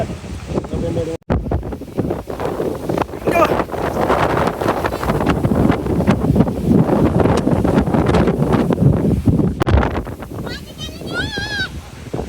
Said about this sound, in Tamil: சரியான காற்று அடிக்குதுங்க